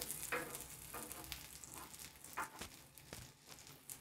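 A red rice cheela fries in ghee on a pan, giving a faint, steady sizzle with occasional soft scrapes and pats, close but quiet, with no voices.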